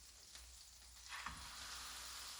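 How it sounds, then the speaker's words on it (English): A lamb shank laid into a hot frying pan sizzles and fries steadily, the searing hiss swelling slightly after it goes in and holding at a moderate, even level without any talk. "I want to take my lamb shank and I'm going to put it into this hot frying pan."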